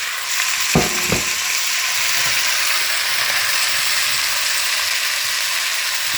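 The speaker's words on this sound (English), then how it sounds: "This we're going to brown up the beef. Again, olive oil in that pan." Ground beef sizzles and crackles steadily in a hot pan of olive oil, a loud continuous frying hiss with a couple of sharp clinks near the start.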